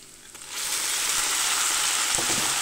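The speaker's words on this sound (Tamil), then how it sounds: "இதில் வந்து நம்ம வேக வச்சுருக்கிற மட்டன் சேர்த்துக்கலாம்" Cooked mutton dropped into a pan of fried onions bursts into loud, close sizzling that rises sharply after a quiet start and holds steady, with no talking.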